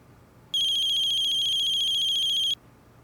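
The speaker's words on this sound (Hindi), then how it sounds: "अरे यार, अब ये क्यों फोन कर रहा है?" Mobile phone ringtone, a bright electronic warble that starts abruptly, rings loud and close for about two seconds, then cuts off, with a quiet background before and after.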